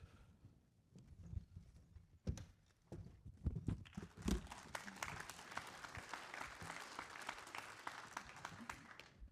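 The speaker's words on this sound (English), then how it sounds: "Clapping for Jeff." An audience claps for a presenter at a transportation department meeting, starting with scattered, uneven claps and thumps that build into steady, moderately loud applause.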